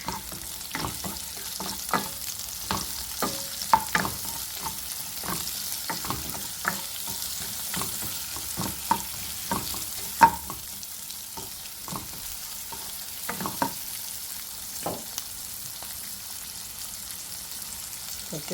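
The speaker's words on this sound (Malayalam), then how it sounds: "ഇതൊന്ന് വഴറ്റിയെടുക്കാനാണ്" Ingredients for butter paneer curry sauté in a hot pan, sizzling steadily as a utensil stirs with frequent light scrapes and clicks throughout.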